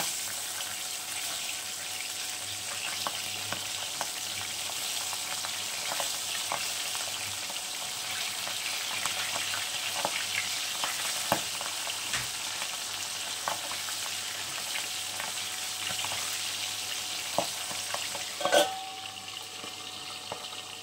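Pabda fish fry in hot oil in a pan for a Bengali jhal pabda, turned over partway. The sizzle is steady and fairly quiet, with occasional small clicks and taps, and no voices.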